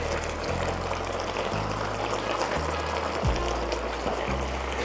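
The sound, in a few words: pouring tomato sauce into kaldereta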